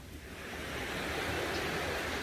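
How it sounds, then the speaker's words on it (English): Ocean waves break near a shore at sunrise, a steady broadband wash of surf that swells slightly louder and then holds as a continuous roar, with no voices. "See the waves crashing."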